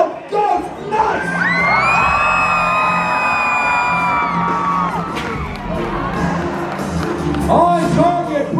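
A crowd at a jousting match at the Ohio Scottish Games erupts in loud, sustained cheering, with children's shrill shouts and whoops carrying over the roar for several seconds.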